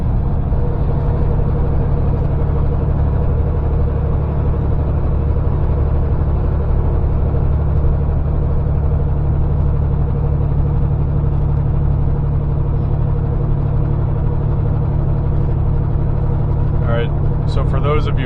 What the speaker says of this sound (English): I am driving a 2017 Kenworth T680